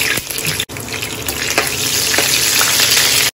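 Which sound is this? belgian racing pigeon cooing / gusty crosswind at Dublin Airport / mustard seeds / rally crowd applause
mustard seeds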